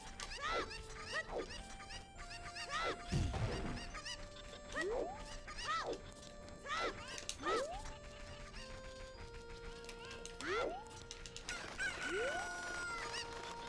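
A video game chicken in a Zelda dungeon run clucks and squawks repeatedly in quick, chirpy bursts over a steady game background, with a brief thud partway through.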